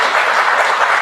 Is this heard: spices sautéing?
no